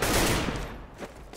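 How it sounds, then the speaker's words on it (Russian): Gunfire in Counter-Strike on the Dust2 map during a pro match, a loud, dense burst of rapid shots that tapers into scattered, fainter pops, with no talk over it. "Стрельба у нас на карте Dust 2."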